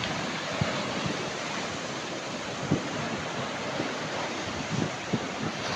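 Ocean surf at Chembarika beach in Kasaragod makes a continuous, fairly faint wash of breaking waves mixed with gusty wind buffeting the microphone, with a few soft thumps scattered through.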